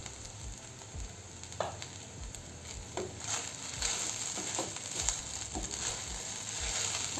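Sabudana khichdi with chopped potatoes being stirred in a pan over low heat, giving a soft, quiet sizzle with occasional light scraping strokes.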